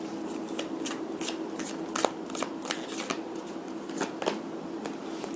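Tarot cards are shuffled and drawn, giving a soft continuous papery rustle broken by repeated crisp flicks and snaps at an irregular pace, close and fairly quiet, with no voice over it.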